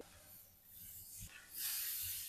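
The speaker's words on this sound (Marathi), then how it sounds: "थोडंसं पाणी टाकून घेते" A little water is poured into hot onion-tomato masala for a spicy egg curry, sending up a soft hiss that swells into a louder, bright sizzling rush in the second half.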